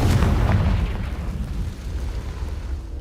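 Confringo fire spell in Hogwarts Legacy detonating as a loud booming explosion that bursts at once, then rumbles and fades over a few seconds with no talk.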